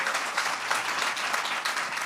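A church congregation claps together in a dense, steady burst of applause, evenly loud and sustained throughout.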